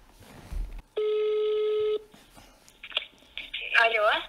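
Telephone ring tone on an outgoing prank call, one sustained tone burst lasting about a second, followed by a person speaking over the line.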